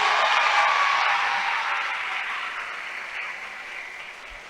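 Pesantren students in an audience applaud together in a dense, steady wash of clapping that starts loud and slowly tapers off, with no talking over it.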